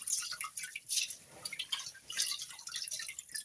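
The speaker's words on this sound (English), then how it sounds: "Rub your hands through them and you'll see the water turning milky." Hands rub basmati rice grains in rinse water, making soft, close, continuous watery swishes and small drip-like splashes in an uneven rhythm, with no voices.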